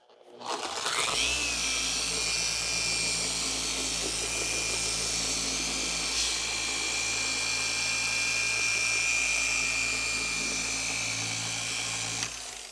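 A polisher buffs a scratch in car paint with polishing compound, a loud, steady, high-pitched motor whine that holds for about eleven seconds without pause.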